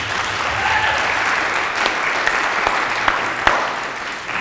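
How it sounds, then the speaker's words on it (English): A room full of people claps steadily for the cast after a play reading, a dense, sustained wash of applause with a few sharper claps standing out. "Let's give another round of applause to the cast."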